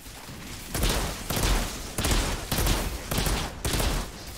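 Bursts of gunfire from the shooter game Outriders come in about six loud, evenly spaced volleys, each a short rattling fusillade separated by brief gaps.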